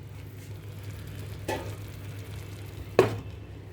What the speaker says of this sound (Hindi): देखिए ये मसाला अच्छे से भुन गया।